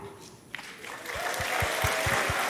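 An audience claps for the guests at a talk on injustice and intolerance. The applause swells from scattered claps into steady, full clapping, with a few low thumps beneath it.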